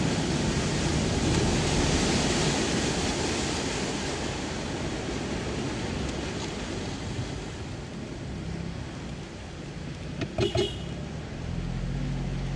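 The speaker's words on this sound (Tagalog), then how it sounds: "Ayan, lakas ng agos dito." Strong floodwater rushes across a road in a flooded village, a loud, continuous roaring wash with wind buffeting close by and a few brief knocks near the end.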